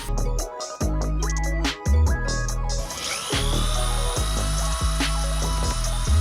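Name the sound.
power drill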